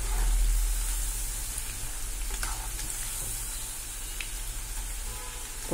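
Amaranth leaf pakodi batter frying in hot oil, a steady close sizzle with occasional stirring scrapes and pops, continuous for several seconds with no talk.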